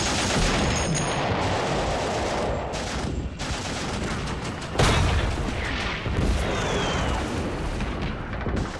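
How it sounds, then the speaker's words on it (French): Turkish soldiers atop cliffs at Gallipoli fire down on the landing beaches, a dense, continuous roar of gunfire and booming blasts with sharper reports standing out, loud and unbroken throughout. "les Turcs leur tirent dessus."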